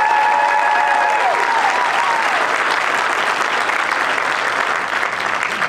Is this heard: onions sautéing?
no